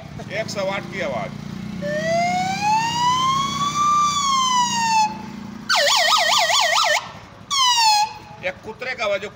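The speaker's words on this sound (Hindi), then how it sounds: "108 की आवाज" A 108 emergency ambulance siren, heard first as a long slow wail and then as a fast warbling yelp, loud and near, with talking at the start and the end.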